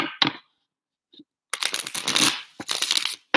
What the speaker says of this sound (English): One more shuffle for you guys, and then we're good to go.